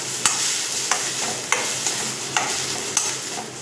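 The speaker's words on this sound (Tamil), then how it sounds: "நல்லா சிம்மிலேயே வச்சு இந்த மாதிரி வதக்கி விட்டுக்கலாம்" Onion and tomato with ginger-garlic paste sauté on low heat in a pan for a prawn gravy, a steady sizzle broken by five evenly spaced sharp scrapes of a spoon stirring.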